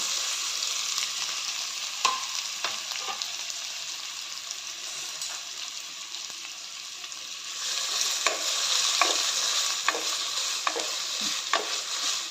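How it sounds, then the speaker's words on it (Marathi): Chopped onion, tomato and ivy gourd fry together in a pan, a steady bright sizzle running throughout with repeated clinks and scrapes of a spoon stirring, the frying growing slightly louder in the second half. "नंतर बारीक चिरलेला कांदा टोमॅटो आणि तोंडली सर्व एकत्रच आपण भाजून घ्यायचं आहे"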